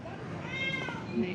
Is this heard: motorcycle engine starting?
no